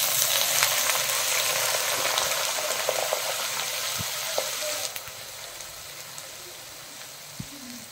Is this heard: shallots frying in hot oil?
yes